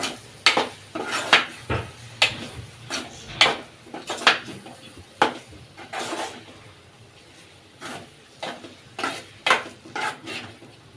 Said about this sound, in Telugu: ఒక స్పూను మసాలా పొడి అండి ఇది కూడా వేసుకుని ఇట్లా కలుపుకుందాం